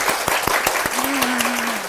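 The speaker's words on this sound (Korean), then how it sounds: "모두 큰 박수로 서로 인사할게요" An audience in a Korean kindergarten teacher-exam briefing session claps together in greeting, a dense burst of applause with a few sharp individual claps up front and a voice sustaining a tone over it.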